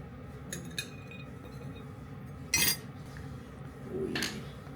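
Dishes and cutlery being washed at home in Japan, with metal utensils clinking and rattling against plates, a couple of louder clattering bursts over a soft background of running water, close by.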